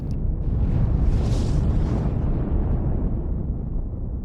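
A deep, rumbling explosion with a broad roar that swells early and then slowly fades, dense and loud throughout, used to represent a supernova.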